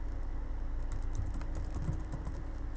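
Steady typing on a computer keyboard, a dense run of quick, close key clicks continuing without pause and with no voices.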